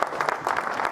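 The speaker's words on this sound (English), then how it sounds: "Let's give them all a round of applause" A brief burst of clapping from an audience at an employee resource group awards summit, moderately close and uneven across about a second.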